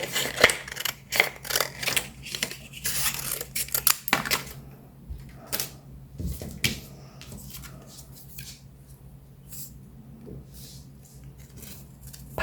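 Scissors snip through scrap paper, cutting long strips about 1.5 cm wide; quick, close crisp cuts come in bursts, then sparser snips and paper rustling follow.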